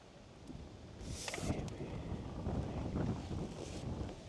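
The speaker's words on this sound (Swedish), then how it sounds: "Helvete vad det blåser emellanåt." Strong wind at an outdoor fishing competition, broad rushing and buffeting against the microphone in steady gusts, loud and close, with no talk.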